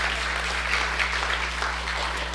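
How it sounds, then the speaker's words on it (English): Church congregation applauding during a Sunday sermon, a steady, dense wash of clapping from many hands that holds evenly through the moment without a break. "Give him a round of applause."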